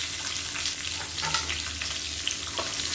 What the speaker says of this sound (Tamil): இப்போ பாருங்கள், வெங்காயம் நல்லா ப்ரௌன் கலரில் வதக்கியாச்சு